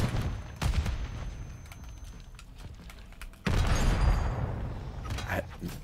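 Shotgun blasts and gunfire ring out in a Call of Duty: Modern Warfare 3 match, with sharp scattered reports, a heavy burst midway and further shots closing out the stretch.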